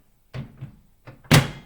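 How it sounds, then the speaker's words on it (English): A microwave door swings shut with a single firm thunk near the end, preceded by a couple of softer handling knocks and latch clicks, close and fairly loud in a quiet kitchen while popcorn is being prepared. "And I am going to shut my door"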